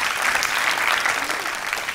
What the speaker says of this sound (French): Est-ce qu'on peut applaudir pour tous ces partenaires,